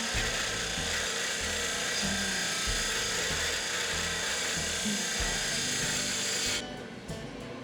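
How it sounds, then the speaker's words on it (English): A 20-inch disc sander grinds a pipe end flat in a custom fabrication shop, a loud continuous abrasive roar with shifting scraping tones as the metal is pressed against it, cutting off just before the end. "we're gonna take it over here to the 20-inch sander, and we're gonna flatten those out"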